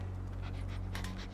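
Chop the dog pants in GTA V, a quick, soft, rhythmic panting close by over a low steady hum for just over a second.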